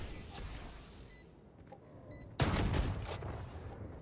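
Burst of gunfire in the video game Valorant starts abruptly partway through, loud and rapid with a quick rattling rhythm, following a quieter stretch of faint game sounds and beeps.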